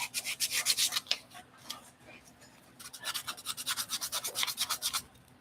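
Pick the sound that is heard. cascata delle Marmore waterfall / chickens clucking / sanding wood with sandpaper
sanding wood with sandpaper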